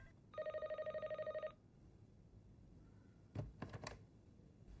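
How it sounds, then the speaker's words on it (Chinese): An office telephone rings once with a rapid electronic trill lasting about a second, followed by quiet room tone and a few brief clicks of handling. "任总，董事长找你，我把电话转过去。"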